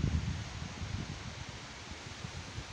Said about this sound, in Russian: Такой шум поднялся, ветер.